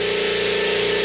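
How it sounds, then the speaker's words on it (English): A Stealth 20-gallon air compressor runs at a steady, even drone with a low motor hum, close and constant. "it is a lot quieter than my old compressor"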